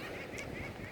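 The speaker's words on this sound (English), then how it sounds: "the seagulls want to chime in" Seagulls call in the background, their harsh honking cries running continuously through a brief, noisy outdoor moment with no speech.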